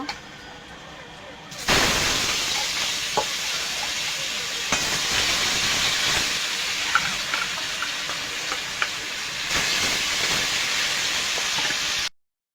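Rohu fish fries in a kadai of hot oil, a dense, continuous sizzle that jumps up after a quieter start and runs steadily near the pan with a few clinks, stopping abruptly at the end.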